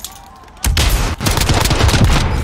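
Heavy Warzone video game gunfire, a sustained loud burst of rapid automatic shots that starts abruptly and keeps rattling with a brief dip, dense and close.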